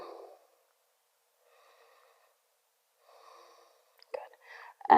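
Soft, slow breaths drawn through the nose and mouth while someone holds a yoga pose, with quiet exhales separated by silence and a voice speaking at the end.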